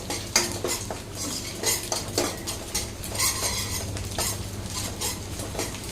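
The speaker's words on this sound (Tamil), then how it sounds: "இப்போ முட்டையை நல்லா கலந்து விட்டுடலாம். இது நல்லா ஓரளவுக்கு வெந்து வரணும்." Two eggs being stirred and scrambled in a pan for hotel-style fried rice, with a spatula scraping and clattering against the metal in quick, irregular strokes close by.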